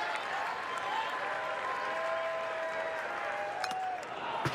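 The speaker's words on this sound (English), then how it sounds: "Crowd coming to life." Stadium crowd at a Texas vs. TCU college baseball game, a steady wash of distant cheering and applause with scattered whistles and sharper claps. The sound is continuous and moderately faint, with no clear speech over it.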